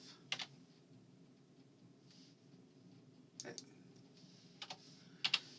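Keyboard keys tapped and clicked during Revit work, a few brief clusters of quiet clicks spaced across a faint hum, with a voice speaking softly underneath.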